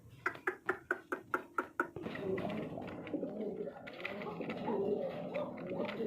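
Pigeons at a farm coo in a low, rumbling murmur, preceded by a quick, regular series of about eight sharp beats.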